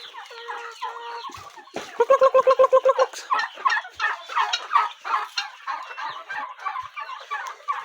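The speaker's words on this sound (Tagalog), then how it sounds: "Ito na lang yung ating mga pabo ngayon." Turkeys gobble loudly and close by in a rapid rattling burst, followed by a chorus of overlapping gobbles and clucks from several birds.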